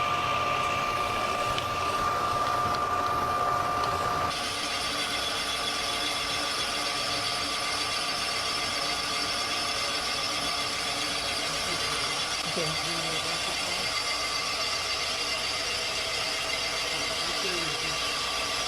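A boring machine cuts the cylinder of a small block Chevrolet engine block, giving a steady high whine and grinding hum that runs on without a break. A brief louder mechanical burst sits at the very start.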